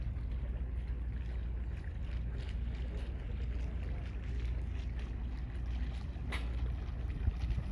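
A ferry crosses the Danube slowly between Bulgaria and Romania at Oryahovo, a steady low engine rumble with water and wind noise, continuous and even.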